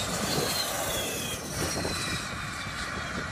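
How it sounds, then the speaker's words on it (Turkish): Bayraktar Kızıl Elma unmanned combat aircraft taking off from a runway, a loud continuous jet engine roar with broadband rumble that holds steady throughout, no voices. "Türkiye'nin ilk insansız savaş uçağı Kızıl Elma pistten teker kesti."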